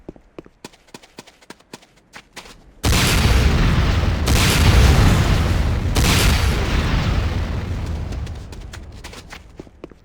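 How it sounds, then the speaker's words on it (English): Several quick clicks and taps lead into a huge roaring blast from automatic rocket launcher fire in Command & Conquer: Renegade, a dense rumbling explosion that swells, sustains for several seconds, then slowly fades. "Next up is the Sakoze 66mm Type R12 Locust automatic rocket launcher"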